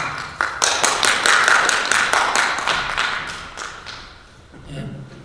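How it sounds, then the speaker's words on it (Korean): A church audience in Korea applauds after an announcement, a short burst of many hands clapping that swells quickly, then thins and fades within a few seconds before a voice returns. "이 안의 중요성에 비해서는 박수가 너무 적습니다, 진짜."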